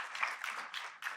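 Audience applause at a fireside chat with a congresswoman, a short burst of scattered hand claps rising and falling over about a second.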